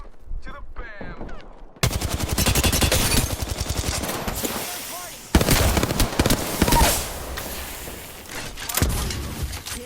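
Dense automatic gunfire in Apex Legends, long sustained bursts of rapid shots that break off briefly and resume, loud and close, with a voice talking over parts of it.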